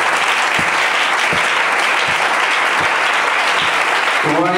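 A congregation in a church service applauding and acclaiming God, loud sustained clapping from many hands with a few sharper claps standing out, ending with a voice starting to speak.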